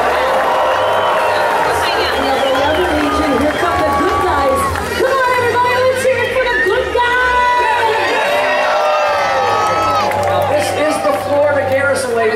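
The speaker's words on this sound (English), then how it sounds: "we want to give a big round of applause for the 501st Legion and their sister organization, the Rebel Legion" A large convention crowd applauds and cheers for costumed Star Wars groups, the 501st Legion and Rebel Legion, with sustained clapping, whoops and a general hubbub throughout.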